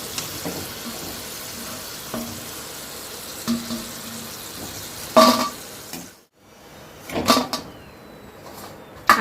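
Sweet potato chips frying in hot oil give a steady close sizzle with light clinks and scrapes of stirring, a brief pause partway through, then more handling noises, with no talking.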